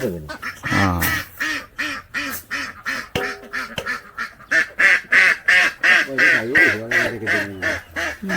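Ducks on a village farm quack loudly and close by in a rapid, rhythmic series of calls that runs almost continuously with brief gaps.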